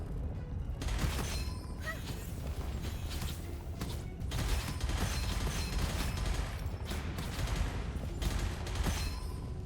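Enemy gunfire in a roguelike shooter game, a steady rattle of distant-sounding shots and mechanical clatter running throughout at moderate level, with no talk.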